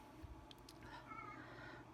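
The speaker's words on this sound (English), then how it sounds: "that weird sound you're hearing is one of my cats" A pet cat cries indoors, one brief, faint meow in a quiet room.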